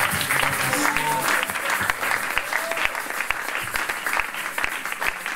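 Congregation applauding in church, a steady wash of clapping from many hands throughout, with faint voices mixed in underneath.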